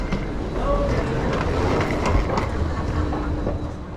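A TCDD HT 80000 Siemens high-speed train running on the Turkish high-speed line, a steady loud rumble of rolling noise heard from inside the carriage with faint rhythmic clicks.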